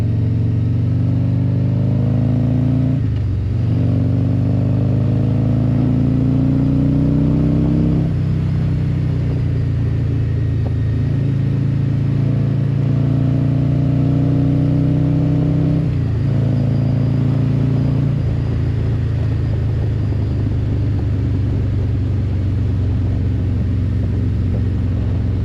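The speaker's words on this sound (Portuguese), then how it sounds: "se calhar eu estou a falar este barulho do escape" Loud, close Harley-Davidson motorcycle exhaust rumbling with a deep pulsing idle, broken by several throttle blips that rise and fall in pitch, with no talking.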